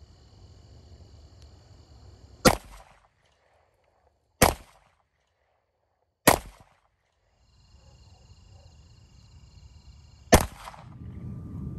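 Four loud gunshots from a CMMG Banshee fired at night, each a sharp, close crack spaced a couple of seconds apart, with quiet gaps and faint background noise between shots and no talking.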